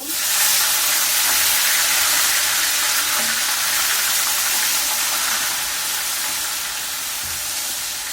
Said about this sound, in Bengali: যে তেলটা ছিল আমি সেই তেলটার ভিতরে পেঁয়াজ বাটাগুলো দিয়ে দিলাম।